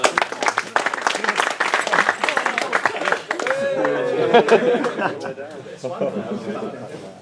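Audience at the Great British Hobbit League final awards gives a round of applause, loud clapping mixed with chuckles and chatter, with voices talking through it and a rising hubbub of crowd noise toward the end.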